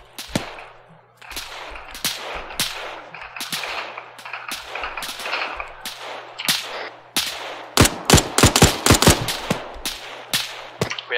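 Sustained machine gun fire in Arma 3, a mad minute of crackling automatic bursts with scattered sharp reports, building to a dense rapid volley near the end, alone without talk.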